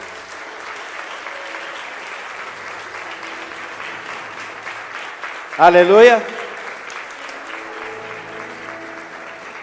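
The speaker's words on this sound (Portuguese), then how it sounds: "Pode aplaudir o Senhor." A church congregation bursts into a short, loud round of clapping lasting about a second, with someone speaking Portuguese before and after it.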